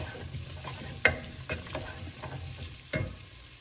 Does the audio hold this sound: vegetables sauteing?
yes